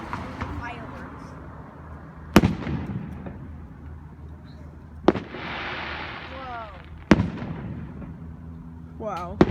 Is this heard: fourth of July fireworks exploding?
yes